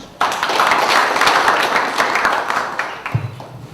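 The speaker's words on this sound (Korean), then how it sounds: "뜨거운 박수 부탁드립니다" Applause from an audience at a Liberty Korea Party policy meeting in Changwon, dense clapping that starts suddenly and holds steady for a few seconds before thinning out, with a low thump near the end.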